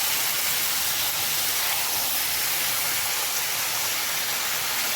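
Fried spices hit a hot pan for a Bengali shukto, releasing a loud, steady, steamy hiss that fills the whole span evenly and close up, with no speech.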